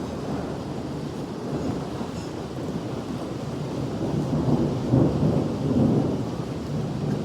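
Thunder rumbles under steady rain drumming on a tin sheet roof in a village during an early monsoon storm, a dense continuous wash that swells louder near the end, with no talking.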